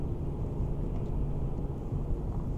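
A steady low engine hum and rumble from inside a 2023 Hyundai Elantra Hybrid as its 1.6-liter GDI gasoline engine kicks on, constant and moderately loud with no voices.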